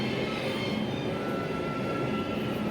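Steady rumbling roar of a moving Delhi Metro train heard from inside the carriage, a constant wheel and motor hum with faint high whine, continuous and even throughout with no speech.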